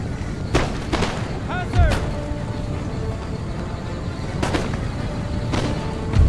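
Scattered musket volleys crack out in a Empire: Total War battle against swordsmen, a few sharp reports spread across the moment with distant booms, while someone talks over the gunfire throughout.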